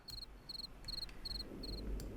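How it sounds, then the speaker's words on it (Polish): Crickets and cicadas chirp in the Sims 3 game's Egypt setting, a quiet, regular pulse of short bursts repeating about twice a second over a soft, low background. "Jakieś świerszcze, cykady. Słyszę w słuchawkach."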